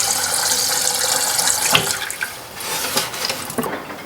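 Water running and splashing as it is poured through a drinking-water filter, a steady close rush with a few brief bursts and no talk.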